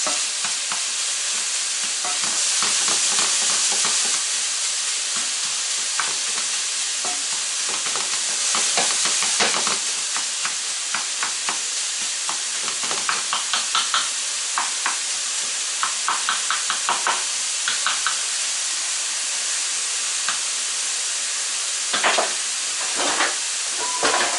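Chicken meat sizzles and fries in a pan for lettuce wraps, a steady loud hiss broken by scraping stirs with a spatula that grow more frequent toward the end, with no voices.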